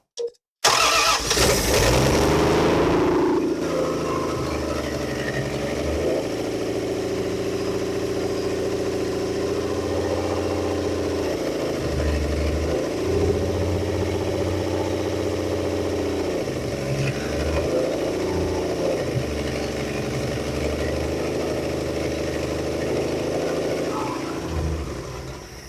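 After 40 years sitting, the old car's engine cranks briefly, catches and fires up, then settles into a rough, loping idle with rhythmic surges in pitch that carry on steadily to the end, close and loud.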